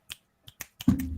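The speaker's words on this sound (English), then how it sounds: "Finger snaps around." Several crisp finger snaps ring out close by during a live-streamed podcast, spaced irregularly before a louder, sustained broadband sound takes over at the end.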